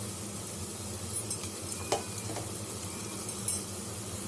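Chopped onions and green chillies sautéing in oil for tomato rice, a low continuous sizzle with a few scattered clinks and scrapes of a spoon against the pan, heard up close with no speech.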